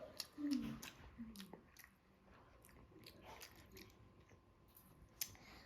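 Close, quiet chewing of home-cooked rice, soft irregular squishy bites and mouth sounds with small clicks, faint against low room noise.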